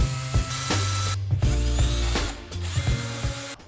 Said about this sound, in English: Widening the holes for the screw head.